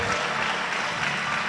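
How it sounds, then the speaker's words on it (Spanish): A church congregation claps in praise to the Lord, a short, dense burst of applause from many hands. "dale un aplauso si quieres darle al Señor"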